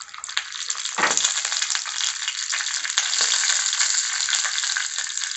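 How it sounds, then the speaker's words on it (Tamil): Steady crackling sizzle of mustard seeds frying in hot oil, with occasional stirring scrapes and pops, close up and continuous. "எண்ணெய் சூடான அப்புறம் அதில் கடுகு சேர்த்துக்கலாம்."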